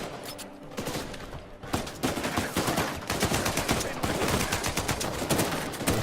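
Sniper and automatic gunfire in the video game Uncharted 4, dense rapid shots and bursts crackling loudly and continuously after a quieter opening.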